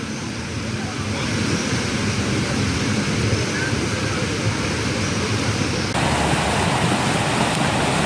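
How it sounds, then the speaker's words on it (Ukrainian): Fountain water splashes continuously, a broad steady rushing hiss heard up close, unchanging over several seconds with no clear voices. "Ось такий фонтан."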